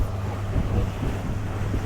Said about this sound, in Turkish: Speedboat gerçekten ama daha yavaş gidiyor bence bilerek.